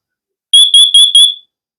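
Four sharp, loud high-pitched beeps in quick succession from a Siterwell combined smoke and carbon monoxide detector during its self-test, followed by silence.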